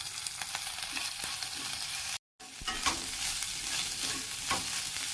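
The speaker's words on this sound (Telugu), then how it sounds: "ఒక చిన్న స్పూను అల్లం వెల్లుల్లిపాయ పేస్ట్ ఇది వేసుకుని ఫ్రై చేసుకుందాం" Ginger-garlic paste frying with onions in a pan gives a steady, close hiss and sizzle broken by light scraping strokes, with a brief dropout near the middle and no one speaking.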